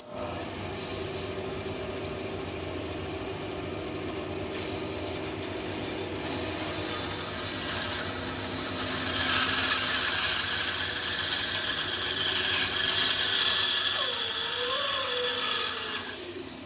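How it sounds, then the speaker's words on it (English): Bandsaw cutting through wood to shape the head of a blue goose decoy, a steady mechanical whine and rasp running continuously at close range, growing louder partway through the cut. "I'll be watching that as I start to bandsaw to make sure I don't go too deep here"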